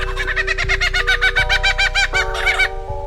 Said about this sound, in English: Next is the lyrebird.